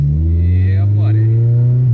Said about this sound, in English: That's a K24 for you right there